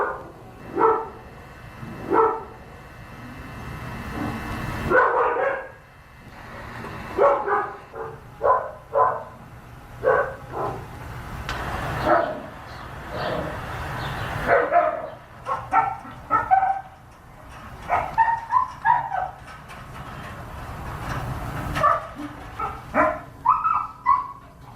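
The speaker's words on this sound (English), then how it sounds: "These are some times that they've been barking, day and night." Dogs bark day and night in repeated bursts of sharp yips and barks, some close and loud, with brief whimpers between the volleys.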